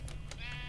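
A sheep in the Minecraft video game gives a short, quiet bleat after being cut, alongside faint clicking like keyboard typing.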